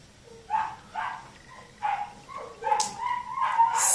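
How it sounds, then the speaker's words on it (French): Neighbours' dogs bark and yelp repeatedly from nearby, a series of sharp, uneven barks growing busier and louder toward the end, with no talking over them. "j'ai des chiens d'à côté qui sont en train de gueuler là"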